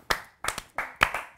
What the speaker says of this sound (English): Round of applause to you, my friend.